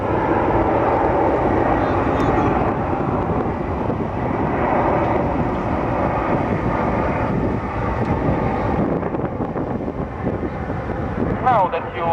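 A jet aerobatic formation climbs through a loop at an RAF Leuchars air display, making a loud, continuous engine roar with wind buffeting that slowly fades near the end.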